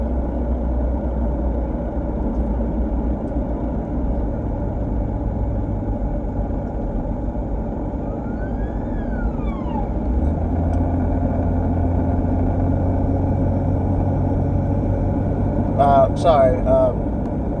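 A police vehicle drives past outdoors, its engine rumble swelling midway and a brief rising-falling siren-like tone sweeping through, all under steady conversation.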